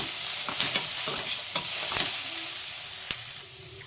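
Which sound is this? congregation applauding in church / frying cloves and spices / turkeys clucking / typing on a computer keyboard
frying cloves and spices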